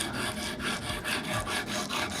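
Knife blade rubs back and forth on an oiled resin bond sharpening stone, about eight steady rhythmic strokes, close and fairly loud.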